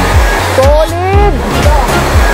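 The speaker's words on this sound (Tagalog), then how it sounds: "Undiscovered falls." A steady, loud rushing roar comes from a small, out-of-the-way waterfall, Kipot Falls in Macaingalan, as excited voices call out over it.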